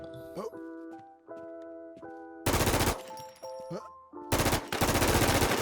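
Two long bursts of rapid automatic gunfire from the Warz video game break loudly over a steady tonal game background, with a voice talking between the bursts.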